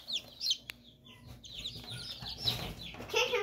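Baby chicks peep in an incubator brooder, a busy overlapping chorus of high chirps at close range over a low background murmur.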